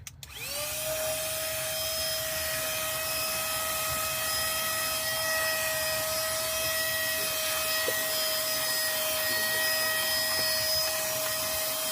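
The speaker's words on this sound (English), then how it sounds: "we're going to suck up the mess I just made" A small portable car vacuum, used on a Tesla road trip, whirs on with a brief start-up and then holds a steady, loud motor drone with a high whine while it sucks up crumbs, with no talking.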